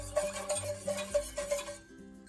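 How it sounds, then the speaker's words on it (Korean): Flour stirred into water in a bowl for kimchi paste, a faint rhythmic scraping of a utensil repeating roughly every third of a second, then stopping near the end. "물에 밀가루를 넣고 잘 풀어주세요."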